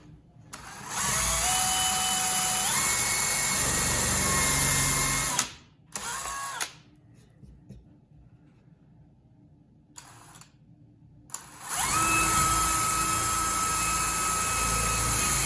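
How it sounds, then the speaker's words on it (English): A power drill fitted with a countersink bit whirs loudly and steadily in two long bursts with a short pause between, its pitch rising as it spins up, on a DIY hockey passer build. "So for this, we'll be using the countersink."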